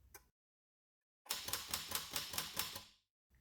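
Mechanism of a Royal 10 manual typewriter worked by hand, a close, crisp burst of about eight rapid clacking strikes lasting under two seconds, with a brief click before it and silence in between.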